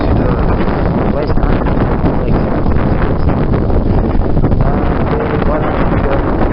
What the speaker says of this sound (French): C'est un vent qui vient du sud-ouest